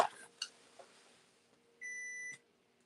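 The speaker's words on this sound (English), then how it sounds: "I get this thing on my water softener is beeping." A water softener emits a short electronic beep, a single steady tone lasting about half a second, heard faintly in a quiet room after a few small clicks.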